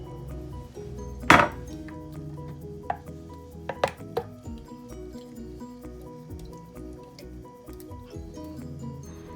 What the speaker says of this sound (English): you can start by chopping up the peaches.